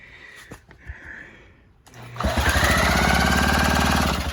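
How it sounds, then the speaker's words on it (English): The flywheel of a 1967 Mercury 39 outboard kicker, 3.9 hp, is spun by hand with the cowling off: a few faint clicks, then a loud, steady mechanical whirring buzz of the engine turning over that runs for about two seconds. "So in order to test this, you just got to spin the flywheel."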